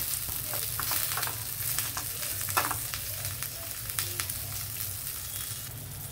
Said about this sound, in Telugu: ఇదిగోండి తాలింపు వేగిపోయింది.